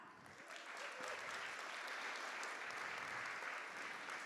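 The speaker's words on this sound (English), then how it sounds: "Big round of applause for that." Sustained applause from a symposium audience, steady and full throughout, with a faint voice or two underneath.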